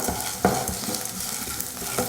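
Onion, ginger, garlic and chana dal being sautéed in a pan for dosa, with steady close frying sizzle and a stirring scrape, no talking.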